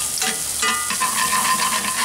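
Garlic frying in a pan alongside onions, with steady close sizzling throughout and a few brief stirring scrapes near the start, alone without talk.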